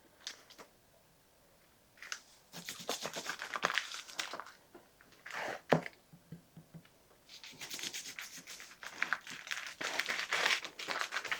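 Thick-cut bacon packs, bought on sale, are handled and cut in half; crinkly plastic packaging rustles and crackles in bursts of varying loudness, close by, with no talking.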